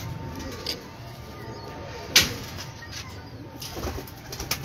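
A pigeon on a rooftop gives low cooing, and a sharp flurry of wing flaps bursts out midway, with softer rustles around it and no voices.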